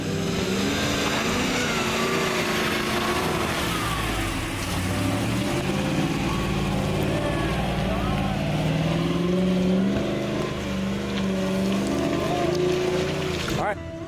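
A Ram Power Wagon's Hemi engine revs and labors steadily while climbing rocks off-road, rising and falling in pitch as it strains, with wind noise and occasional talk mixed in.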